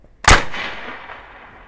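A Pinty P-Force airgun fires one .2175 caliber, 20.2 grain Nielsen slug at 785 feet per second, giving a single sharp, loud crack followed by a short fading decay.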